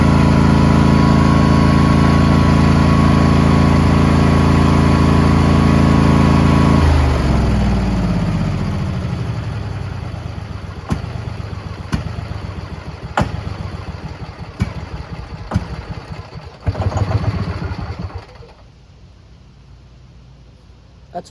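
A Husqvarna lawn tractor engine runs loud and steady nearby, then shuts off and winds down after about seven seconds. Sharp clicks and knocks follow before the sound falls quiet.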